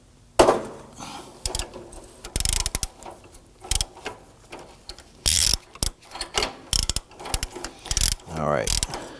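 A ratchet wrench clicks in repeated bursts of pawl ratcheting while loosening a rust-penetrant-sprayed upstream oxygen sensor on a 2005-2009 Subaru Legacy 2.5L, loud and close, with short pauses between strokes.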